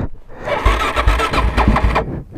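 A Suzuki DRZ supermoto engine cranks and catches just after a crash, a loud, close burst of rough engine rumble with irregular pulses, settling briefly before cutting off.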